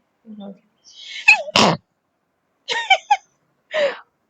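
A close, sharp sneeze bursts out after a short inhale, and a few brief vocal sounds and breaths follow.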